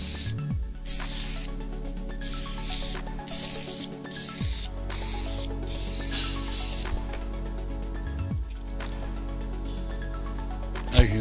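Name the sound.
spraying contact adhesive onto EPDM membrane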